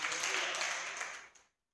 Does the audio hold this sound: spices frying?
no